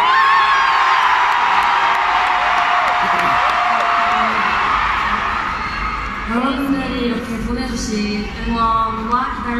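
A concert crowd cheering in a Manila arena: dense, loud shouting and whooping from many voices, with high-pitched screams rising and falling, sustained throughout.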